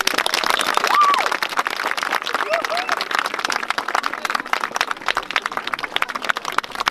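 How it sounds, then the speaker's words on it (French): A rally crowd gathered outside a school claps in a loose, uneven patter, with voices and chatter mixed in and an occasional shout rising above the clapping. "je pense qu'on peut faire un tonnerre d'applaudissements."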